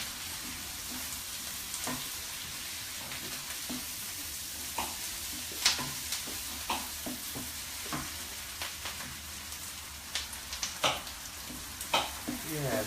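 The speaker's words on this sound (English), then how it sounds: "I think my onions are about to cook." Onions sizzle steadily in a pan, with a constant frying hiss and occasional sharper crackles and utensil scrapes breaking through.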